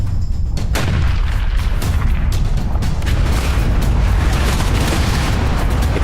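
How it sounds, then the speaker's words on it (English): Bombs dropped by a WWII Lancaster explode on a factory in a heavy, continuous barrage of deep booms and rumbling blasts, loud and dense throughout with no talking. "Explosions erupt as the bombs find their mark."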